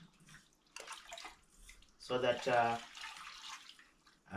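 Raw meat being rinsed with water in a pot (sufuria) at home, with sloshing water noise under someone talking throughout.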